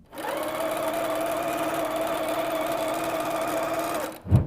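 A sewing machine runs in one steady, close, continuous burst for about four seconds, then stops. It is stitching 1.5-inch quilt binding fabric strips right sides together with a quarter-inch seam.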